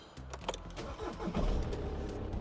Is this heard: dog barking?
no